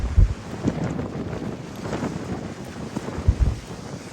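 Wind gusting outdoors during flint hunting in Scandinavia, buffeting the microphone with low rumbling bursts and a steady rush, no talk.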